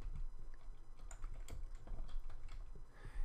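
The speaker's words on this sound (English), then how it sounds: "So I just can type the name of it." Rapid keystrokes on a computer keyboard while typing a font name, a quick irregular run of light clicks close by with no talk over them.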